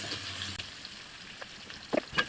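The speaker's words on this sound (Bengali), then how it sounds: "পেঁয়াজটা একটু ভাজা ভাজা হয়ে নে" Chopped onions fry in a pan with spices, giving a faint, low crackling sizzle with a few sharper pops and stirring scrapes near the end.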